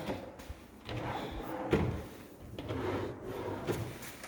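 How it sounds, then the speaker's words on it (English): Kitchen drawers without slow-close hardware are shut one after another, giving several woody thumps and slides spaced over a few seconds, close up and fairly quiet in a room. "and then we have 3 drawers. Let's check on their closing."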